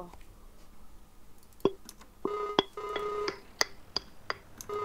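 A phone is dialed in the video game Farming Simulator 19: a run of short, clean electronic beeps and tones, some sustained briefly, with sharp clicks in between.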